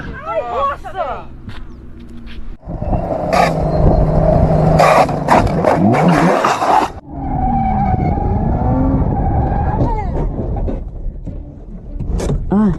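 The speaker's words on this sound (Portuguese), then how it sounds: "Bati o carro, mano." A Camaro skids with loud, sustained tire screeching and engine noise, then crashes in a harsh burst of impact, while voices talk over the action.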